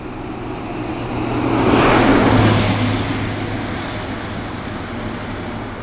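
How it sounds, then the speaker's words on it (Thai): An Airport Rail Link train running into Suvarnabhumi Airport makes a broad rushing rumble that swells and fades over a few seconds, passing at a moderate distance, with steady low hum underneath. "มีรถไฟนะครับ รถไฟแอร์พอร์ตลิงแอร์พอร์ตลิง วิ่งเข้าในสนามบิน"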